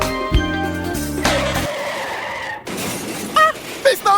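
Car crash sound effect from a radio insurance advert: a loud tire squeal and skid builds into a crunching impact with shattering glass, followed by a few sharp metallic clatters.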